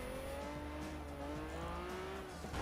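A Lancia Stratos accelerating in Forza Motorsport 7, its engine note climbing steadily in pitch with a brief tyre squeal, loud and close throughout.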